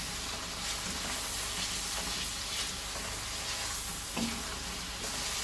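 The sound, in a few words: keema (minced meat) frying in a pan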